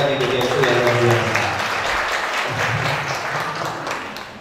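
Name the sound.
audience applause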